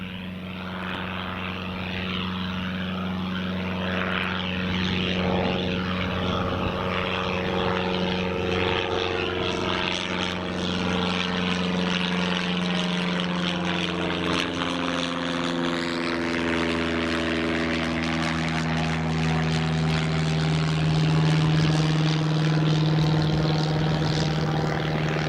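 Airliner taxiing toward runway 25 at Newcastle International Airport, a loud sustained engine whine and hum with slowly shifting tones and a gradual Doppler-like drift as it moves past, steady throughout with no talk.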